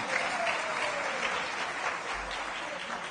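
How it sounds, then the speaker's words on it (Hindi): At a political rally, a large crowd claps hard and continuously, a dense, even wash of applause with no breaks that stays loud throughout. "मंचासीन सभी नेताओं के लिए जोरदार ताली बजाइएगा"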